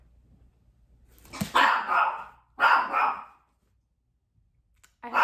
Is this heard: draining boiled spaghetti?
no